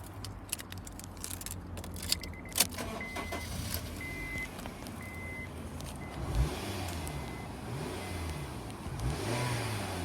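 A Honda CR-V VTEC engine cranks and catches, revs briefly, then settles into a quiet idle, with some clicks and a faint beeping in the background.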